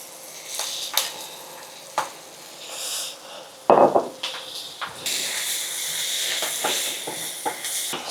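Turkey meat goes into a simmering cassava and coconut milk mixture, with a thud and a burst of sizzle followed by steady hissing and scattered stirring clicks and scrapes.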